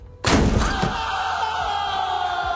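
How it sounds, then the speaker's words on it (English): A trap door sound effect on a wrestling talk radio show hits with a sudden loud slam, then trails into a long, steady, ringing rumble that holds to the end. "please do not call because you will get the trap door"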